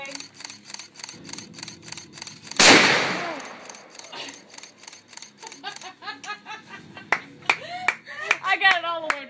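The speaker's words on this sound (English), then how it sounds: "So this is my second shot of the 50 cal" A single very loud .50 caliber rifle shot cracks out near the middle, its heavy blast ringing and decaying over a couple of seconds amid outdoor range ambience, with people talking and exclaiming afterward.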